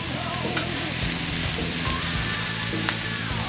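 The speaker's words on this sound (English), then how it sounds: "We're going to take a spatula and just kind of saute our vegetables like so" Sliced vegetables and thin mushrooms sauteing in butter in a skillet, a loud dense continuous sizzle close up with occasional spatula scrapes and clicks, no talk.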